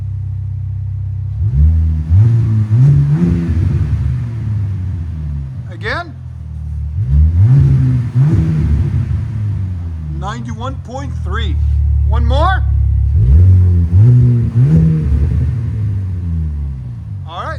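Engine of a 2025 Ram RHO with the 3.0L Hurricane inline-six revs repeatedly through its exhaust, climbing and falling in three loud rumbling bursts, while people talk close by.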